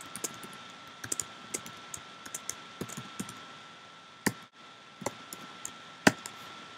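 Typing on a computer keyboard, with scattered key clicks in uneven bursts and a few louder taps, close and fairly quiet over a steady electronic hum, with no talking.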